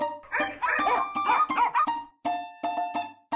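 Several small cartoon dogs bark and yip rapidly in close, bright, overlapping bursts, then a short gap and a few more sharp yaps.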